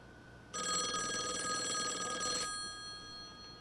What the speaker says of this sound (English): I'm just going to go ahead and answer it, just to stop the ringing.